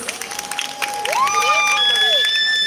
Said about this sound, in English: Audience, can we have once again big huge cheering for Pillar Records?